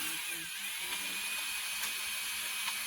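A cordless drill runs in reverse with a chuck key held in the chuck to open it, giving a steady high-pitched whirring whine close up for a few seconds.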